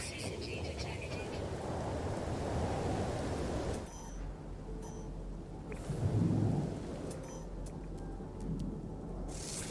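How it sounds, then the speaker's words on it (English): A thunderstorm with rain in the game No Man's Sky: steady rainfall hiss gives way to rolling thunder rumbles, with a deep low boom near the middle and softer rumbles after it, all moderately loud. "Weather warning. Incoming storm."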